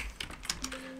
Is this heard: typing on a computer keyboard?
yes